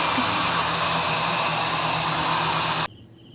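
A hair dryer blows loudly with a broad, airy whoosh close by, then switches off abruptly near the end, leaving a quiet hum.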